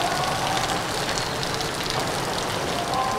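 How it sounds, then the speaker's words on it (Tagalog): Steady rain falls in a dense, even hiss of drops striking surfaces, close and continuous with no voices. "Humihina na yung ulan"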